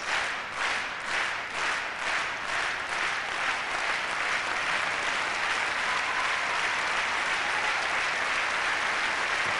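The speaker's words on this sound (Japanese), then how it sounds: "今度は手拍子です。" Olympic figure-skating exhibition crowd at Albertville 1992 clapping along in a steady rhythm, a dense arena-wide wash of hand claps pulsing evenly and growing fuller, with no voices above it.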